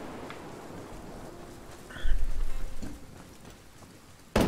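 Steady rain in the video game Ghost Recon Wildlands, a constant hiss of falling drops with a low rumble swelling near the middle and a sudden louder burst at the end.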